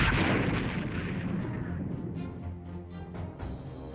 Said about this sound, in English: fire one more little salvo of AIM-120s